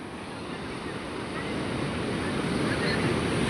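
Strong sea waves roar as a dense, continuous surge of noise that swells slightly louder over a few seconds, with wind buffeting close to the microphone.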